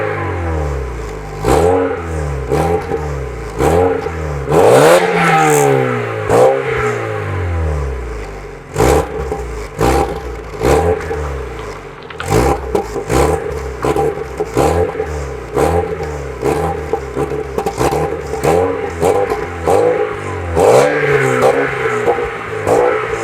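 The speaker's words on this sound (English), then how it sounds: "It's much more raspy than it used to be. You can hear as it's a little deeper. It also pops and bangs a lot" A decatted MK3 Volkswagen Golf revs repeatedly, its raspy, deep exhaust rising and falling in sharp sweeps punctuated by crackling pops and bangs on each lift-off, loud and close with no talk.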